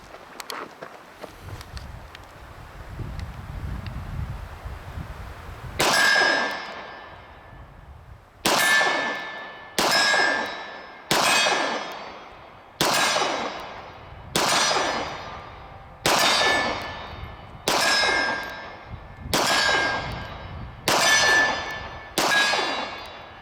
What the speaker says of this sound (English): Okay, the SAR-9 from 25 yards away. Do a little bit of distance shooting here.